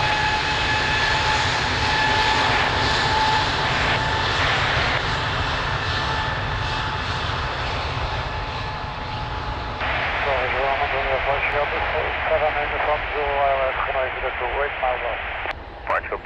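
Jet airliners at Lisbon Airport produce a loud, continuous engine roar that swells and shifts in pitch. Air traffic control radio chatter runs over the top.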